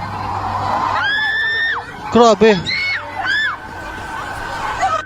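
A crowd of people at a river screaming and shouting at a creature in the water, loud overlapping cries and whoops rising in bursts, with spoken exclamations among them.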